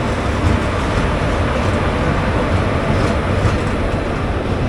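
Loud, steady rumble of the 22899 Mangaluru Express rolling past at close range. Broadband roar fills the clip with no break and no voices.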